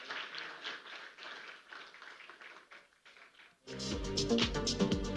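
Audience applause at a business awards event in Bengaluru, a dense crowd clapping that fades briefly and then swells louder as music starts beneath it.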